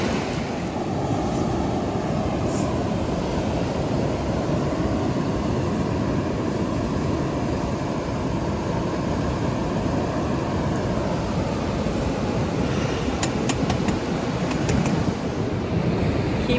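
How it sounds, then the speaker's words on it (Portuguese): Calm sea waves wash steadily onto a beach on a hot day with little wind, a continuous broadband surf wash that stays even and fairly loud throughout, with some wind noise on the microphone and no talking. "O mar tá calmo"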